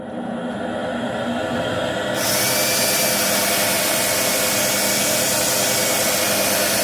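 Lathe sanding of turned birch with 400-grit paper, a steady broadband whir that grows louder and brighter after about two seconds and then holds constant, with no talking.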